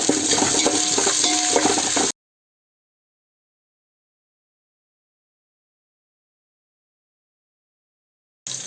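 Onions with green chillies and mint sizzle and get stirred in a pan for Hyderabad-style egg biryani, a loud, busy frying hiss with scraping for about two seconds, then silence until a brief burst of sizzling returns at the very end.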